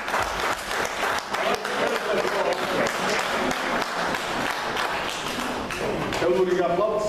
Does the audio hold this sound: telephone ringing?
no